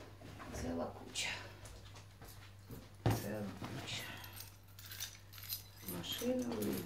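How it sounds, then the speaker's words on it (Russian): Keys jingle and clink in bursts, close by, while someone talks over them. "Ой, сколько ж тут ключей."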